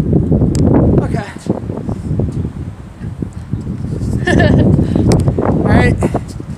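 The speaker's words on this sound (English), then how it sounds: "Watch out, it's really windy." Strong gusts buffet the microphone outdoors in loud low-frequency rumbles that swell and drop, mixed with people talking close by.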